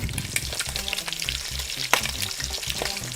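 Garlic frying in oil beside browned ground meat in a pan, a loud close crackling sizzle with rhythmic stirring scrapes and a low repeated clatter of the spatula.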